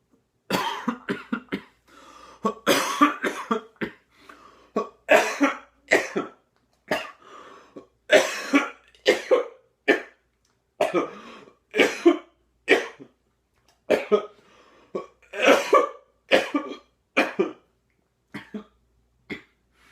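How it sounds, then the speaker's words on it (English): A person coughs again and again in harsh, irregular fits, with short pauses and throaty rasps between bursts, close and loud, without any speech. "How long have you had that cough?"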